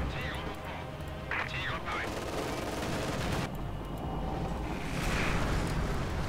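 Battle noise from Company of Heroes 2 on the Southern Front near Kharkov: distant rattling gunfire and bursts under a continuous low rumble, with someone talking over it.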